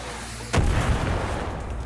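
Far Cry New Dawn sniper rifle, a single loud, close shot with a deep booming report that rolls off into a lingering echoing tail, in a quiet outdoor game setting with no talking.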